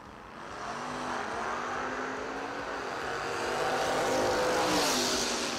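Drag race cars, including a 1979 Camaro, roaring at a footbrake challenge drag strip in Argley, PA, with sustained loud engine noise and rising revs over a steady crowd of distant motors.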